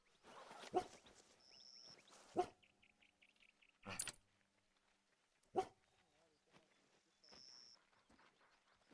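In The Hunter: Call of the Wild, a hunting dog on a hare hunt lets out several sharp, widely spaced barks against a quiet background with faint in-game sounds between them.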